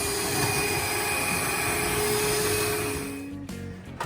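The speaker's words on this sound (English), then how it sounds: "mixing it with my mixer here, but I found out that it's a little too slow." An electric mixer whirs steadily as it mixes banana cream pie filling, a constant motor drone with a tonal whine that slows and fades near the end.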